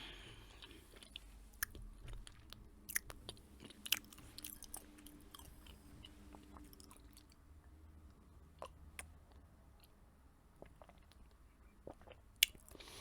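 Soft, close chewing of chocolate with occasional faint crunchy bites and sticky mouth clicks, quiet and intimate against a low hiss, with no talking.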